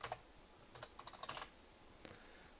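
Fingers tap out a quick, irregular run of keystrokes on a computer keyboard, close and clear over a quiet room hum, with short pauses between clusters and no voices.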